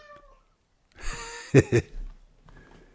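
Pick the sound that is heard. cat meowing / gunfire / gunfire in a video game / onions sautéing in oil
cat meowing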